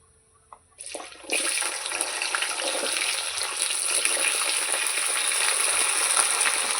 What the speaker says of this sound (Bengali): গাঠি আলু একসাথে আমি ভালো করে লাল লাল করে ভেজে নেব